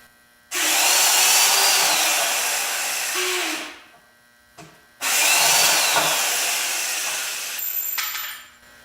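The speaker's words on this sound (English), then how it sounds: "I am just getting the last screw put into the log" A one-speed power drill drives a screw into a log, whining loudly in two long bursts of about three seconds each, separated by a short pause, close by with no talking.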